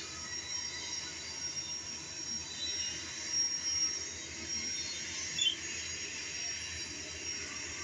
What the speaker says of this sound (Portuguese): É trem de carga. Então, acho que ele tá bem pesado. Então, é esse barulhão que ele faz.